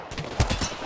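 Charge rifle shots in a battle royale video game sound as a quick string of sharp, punchy cracks within under a second, loud and close.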